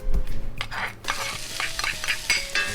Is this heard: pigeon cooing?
no